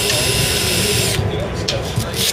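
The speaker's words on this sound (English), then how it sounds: "then just start sanding all the oxidation off of it." A machine with a foam sanding disc sands oxidation off a car headlight, giving a steady, loud whirring hiss that runs unbroken for the whole stretch.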